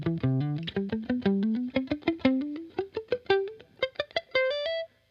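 Distorted electric guitar playing a rising run of single notes, each picked note ringing briefly with a gritty, saturated tone before the phrase ends.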